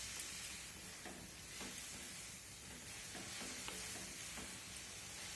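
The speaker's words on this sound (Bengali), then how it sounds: "এই সময় অনবরত এই পুরটাকে নাড়াচাড়া করতে হবে" A coconut and jaggery filling is stirred in a pan over medium heat, a soft low sizzle with several faint scraping strokes spaced irregularly, quiet and close with no voices.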